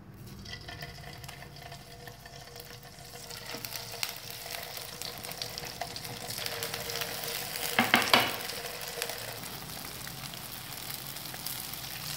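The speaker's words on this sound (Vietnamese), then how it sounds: "Thì đầu dầu sôi lên thì các bạn sẽ cho đậu vào nhé" Tofu pieces frying in hot oil in a pan, a steady close sizzle and crackle that swells louder around the middle as the tofu goes in, with no talking.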